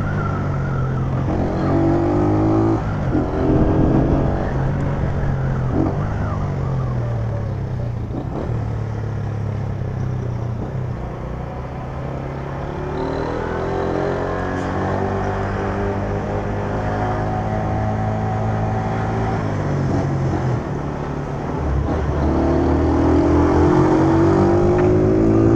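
A car engine revs hard and close through repeated gear changes, its pitch climbing, dropping at each shift and climbing again under load, loud and continuous throughout with no talk.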